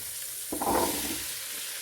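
Diced sweet potato being stirred in a pan with celery, ginger and onion for soup, a soft steady sizzle with a brief louder scrape of stirring in the middle.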